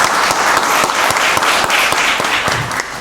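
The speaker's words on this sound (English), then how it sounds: "Give Lisa Chester another round of applause." Loud applause fills a county board of commissioners meeting room, a thick, steady burst of many hands clapping close to the microphone that eases off slightly at the end.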